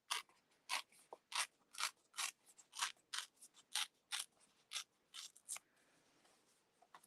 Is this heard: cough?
no